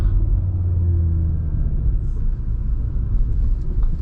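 Low engine rumble from a 2019 Audi TT RS while driving with the transmission in auto, a steady muffled drone carrying on throughout without a clear rev.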